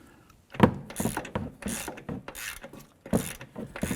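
A hand ratchet clicks in short bursts while removing strut nuts on a 2007-2014 Cadillac Escalade, with quick ratcheting strokes separated by brief pauses, close and moderately loud.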